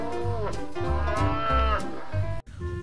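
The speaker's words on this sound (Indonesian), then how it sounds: "Ternyata ini sapi yang kecil" A small cow gives a loud, sustained, tonal moo that runs for about two and a half seconds before cutting off abruptly, with a shorter sound following.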